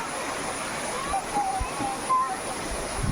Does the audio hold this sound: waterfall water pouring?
yes